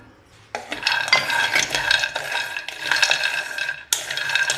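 Almonds are tipped into a pan and stirred for a protein health mix, with a sudden rattling pour followed by continuous scraping and clattering of a spoon against the pan, close and loud.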